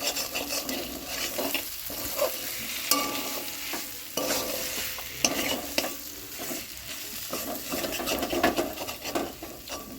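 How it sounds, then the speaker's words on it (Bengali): A spoon stirs spice paste through potato and bitter gourd in a hot pan. The frying crackles and hisses nearby, and the spoon scrapes and clatters against the metal in an uneven rhythm throughout. "এখন ভালো করে নাড়াচাড়া করে নেব, আলু এবং করলার সাথে যাতে পেস্টটা ঠিকঠাক মিশে যায়।"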